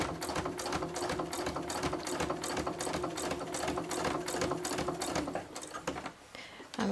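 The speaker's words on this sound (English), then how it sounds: "we want a couple of stitches to secure" A sewing machine stitches a tote bag with a steady, rapid mechanical chatter close by, running continuously for several seconds before slowing and pausing briefly near the end.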